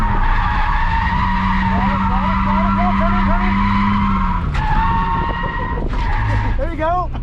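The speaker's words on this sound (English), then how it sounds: "it kept the car drifting" Car drifting on a track as tires skid and squeal with a steady, sustained screech over a loud, revving engine, close and continuous, while people talk over it.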